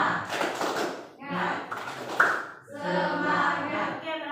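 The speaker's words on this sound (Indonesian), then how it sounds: "Tepuk baris 1 dan 2." Students in rows one and two of a vocational high school classroom clap in short bursts between a teacher's spoken instructions, the claps mixed in and partly masked by the talking.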